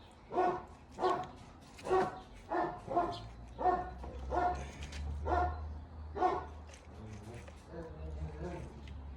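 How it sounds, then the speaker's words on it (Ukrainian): A dog barks repeatedly in a regular rhythm, close by, then the barking thins out as a low rumble and a voice come in near the end. "Собаки гавкають, а я відео знімаю."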